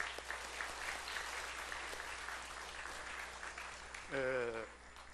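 A seminar audience of church elders and lay leaders applauds two performers after their music, a steady crowd clapping heard from across the hall, with a brief tonal sound cutting in near the end as the clapping thins.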